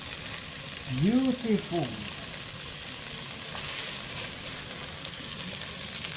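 Cabbage sizzles and crackles in a pan during stir-frying, a faint continuous fry under a brief exclamation from a voice.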